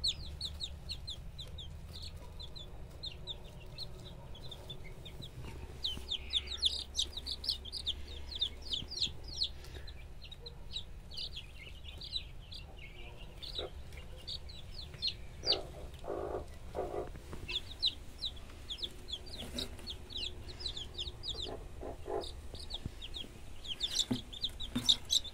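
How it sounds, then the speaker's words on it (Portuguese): A hen sheltering newly hatched guinea fowl chicks makes low, soft clucking, while high, thin chick peeps repeat in bursts throughout, close and fairly quiet against a faint background hum. "A galinha tá aqui, ó. Com as angolinhas embaixo dela."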